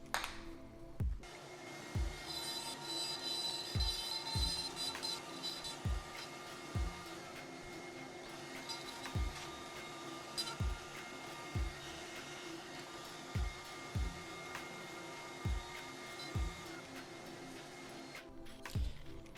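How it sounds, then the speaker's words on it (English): A steady high-pitched whine of a wood router running with a vacuum attachment, cutting an inlay recess in a wood slab, with regular soft thumps repeating roughly every second. "I'm gonna go ahead and run the router in here with the vacuum setup to clean it all out"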